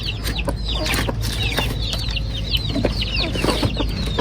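Hens and chicks cluck and peep steadily at feeding time on a farm, many overlapping high chirps over a constant low hum of the brooding area, close and busy throughout.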